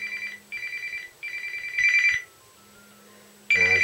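Electronic ringtone of an incoming call on a mobile handset, repeated short bursts of tone with brief gaps, fairly loud and close, with no talking.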